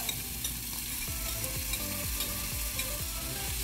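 Chicken frying in a pan with browned garlic and onion for pancit guisado, a constant bright sizzle with repeated scraping strokes of a spatula at a steady rhythm, close up and with no talking.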